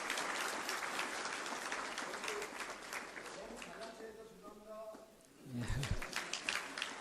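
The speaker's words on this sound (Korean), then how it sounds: "우리 함대진 홍보단장님께 다시 한번 감사의 큰 박수를 부탁드리겠습니다." Sustained applause from a lecture audience at the end of a talk fills the room, dense steady clapping that thins out toward the end, with a low thump near the close.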